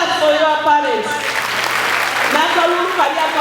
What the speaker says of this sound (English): can you clap for your parents?